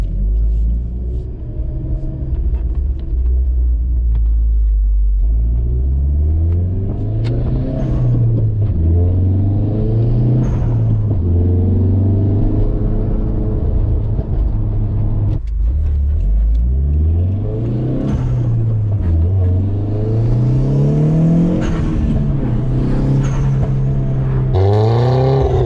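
A 300 whp Tomei turbo Hyundai Genesis Coupe with a loud exhaust drives and runs up through the revs repeatedly, engine pitch climbing and dropping between shifts, a deep rumbling drone heard close and steady with no talking.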